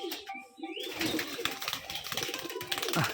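Pigeons coo in a backyard loft of Rajshahi gerebaj flying pigeons kept in a disused spot, with a pearl-eyed male among them, amid steady broadband noise after a brief high whistle at the start.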